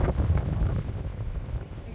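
Strong wind in Toulouse buffeting the microphone, a loud low rumble with gusty swells, steady for a couple of seconds with no voices.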